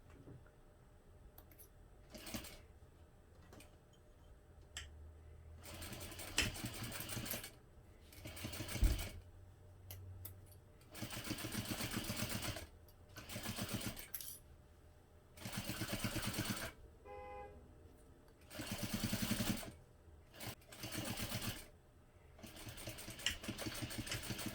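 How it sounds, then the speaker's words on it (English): A sewing machine stitching a seam on a hobo bag, running in several close bursts of rapid mechanical whirring separated by quiet pauses, with a few small clicks and a brief low thump between runs. "We'll sew this together using"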